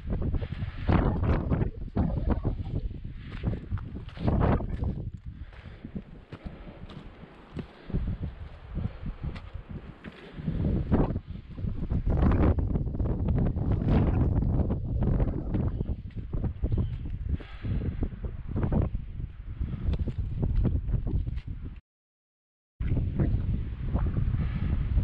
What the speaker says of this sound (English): the higher you go, the less protected you are from the wind. So you are going to get buffeted.